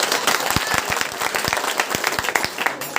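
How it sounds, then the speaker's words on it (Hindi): An audience at a children's award ceremony and quiz event claps loudly, with distinct sharp claps in an uneven rhythm and a dense applause wash behind them. "थोड़ा सा ताली जोर से बजाइए।"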